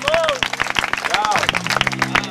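A crowd claps and cheers at the 2018 Shein vs Pac-Man rap battle final, with steady applause beneath a loud voice calling out over it.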